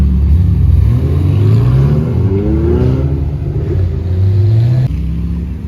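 A Ferrari F355 engine revs loudly and continuously nearby, rising and falling in pitch as the throttle is blipped.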